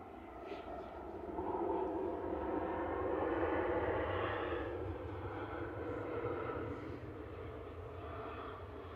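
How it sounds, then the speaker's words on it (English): An EasyJet Airbus A320 arriving at Manchester Airport gives a faint, distant engine rumble that swells gently and then fades. "EasyJet A320 Classic with flight 728 coming in from Jersey in the Channel Islands there, GEZGX."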